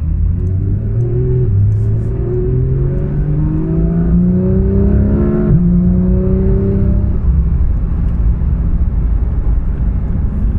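A 2016 Porsche 911 GT3 RS engine revs up through the gears while driving, its rising tones climbing steadily, dipping at a shift near the middle, then settling into a loud, smooth cruising drone.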